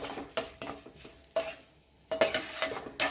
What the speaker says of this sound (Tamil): உளுத்தம்பருப்பு நல்லா வறுபடட்டும்